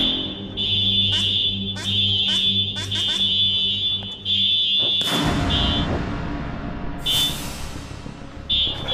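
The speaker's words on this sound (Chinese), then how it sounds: "警报声此起彼伏，" Electronic alarms beep all around during a chase game on a reality game show, a repeating high-pitched beeping pattern that continues amid loud movement noise and voices.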